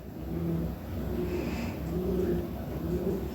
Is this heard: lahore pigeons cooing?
yes